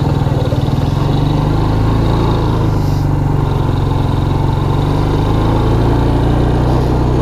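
A Suzuki King Quad 300 ATV engine runs loud and close with a steady throbbing rumble, holding an even pace at the start of a ride, no talk over it.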